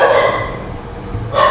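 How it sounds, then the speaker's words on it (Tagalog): Dogs bark loudly nearby in two short bursts with a brief lull between them, the sound harsh and close. "Ingay yung aso."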